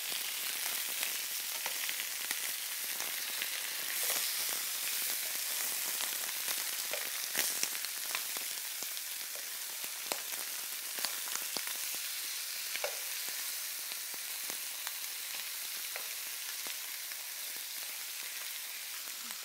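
Chicken pieces fry in a pot with a steady, bright sizzle, while a spoon stirs them in occasional soft scrapes and knocks, close and continuous, without speech.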